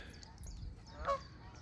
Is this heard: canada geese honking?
yes